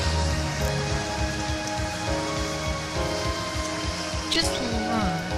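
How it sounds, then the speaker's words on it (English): Rain falls on surfaces during a July flood, a constant close patter and hiss with tonal sounds layered over it and a voice heard briefly. "Look how much rain has fallen."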